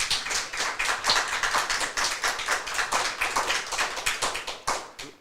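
Scattered clapping from an audience at a school board of education meeting, a few pairs of hands beating in an uneven rhythm that fades out near the end, fairly close and unaccompanied.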